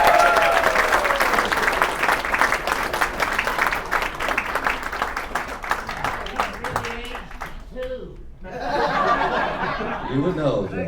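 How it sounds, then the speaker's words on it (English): A crowd at a charity show applauds a performer coming on stage: steady, dense clapping mixed with laughter and chuckles for several seconds, then dropping away as talk and more laughter take over near the end. "with a big round of applause"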